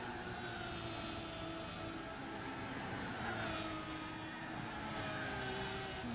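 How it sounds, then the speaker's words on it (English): Race car with a rotary engine revving high in Gran Turismo 6, a sustained buzzing engine whine with shifting pitch that stays steady in level throughout, with no voices over it. "Push that little rotary motor. Well, you can really rev them high"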